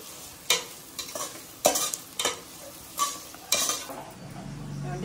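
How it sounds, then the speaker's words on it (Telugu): Onions, potatoes and green chilies frying in an uncovered pan, giving a constant low sizzle broken by several scraping stirs of a utensil against the pan, close by. "ఇట్లా మూత పెట్టకుండా ఇట్లా వేయించుకోవాలి."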